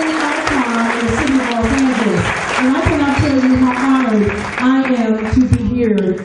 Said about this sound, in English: Let's give this woman another round of applause.